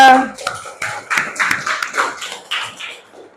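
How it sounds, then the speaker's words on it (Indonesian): Students in a mathematics classroom clap together in a loud, fairly rhythmic burst of hand claps, with voices mixed in at the start and the clapping fading toward the end. "Beri tepuk tangannya."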